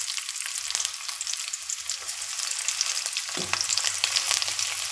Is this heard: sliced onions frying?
yes